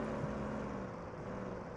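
Low, steady engine drone of a five-cylinder bus in the Police Simulator video game, a continuous idling rumble with no talk over it.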